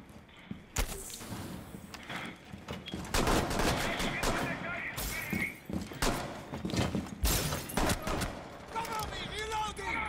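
Rapid gunfire in the Rainbow Six Siege video game, with bursts of automatic shots and single cracks shot through a floor from below, loud and dense, alongside thuds, impacts and game sounds.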